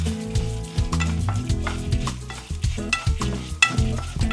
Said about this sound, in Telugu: సిమ్లో పెట్టి చక్కగా పోపులు, పప్పులు, ఆవాలు అన్నీ వేగే వరకు మంచి సువాసన వచ్చే వరకు వేయించుకోవాలి